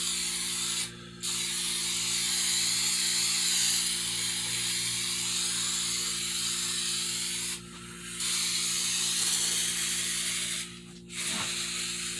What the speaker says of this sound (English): Spray the inside of the back with Flex Seal.